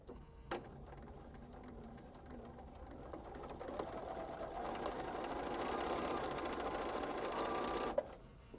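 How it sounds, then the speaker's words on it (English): A sewing machine runs steadily, stitching quilt pieces with a quarter-inch foot, its rapid needle hum building in loudness before stopping abruptly with a small click. "we're stitching on the left-hand side of that line"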